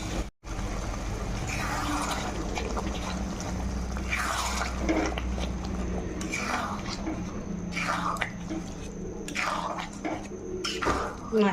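Boiled mung dal poured into a pan of fried fish head, a wet liquid splashing and glugging sound running steadily at close range with soft handling noises.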